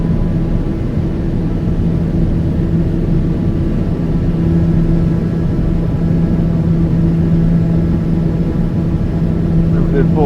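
Steady, droning hum of a TBM 850 turboprop's engine and propeller in cruise flight, constant and even throughout with a low tonal buzz, heard from inside the cabin.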